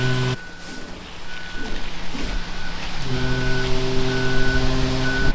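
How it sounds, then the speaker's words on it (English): A concrete mixer truck rumbles close by on a farm pour site, with a loud, steady reversing alarm beeping repeatedly through the second half over the engine drone. "Second truck's coming around the corner down there"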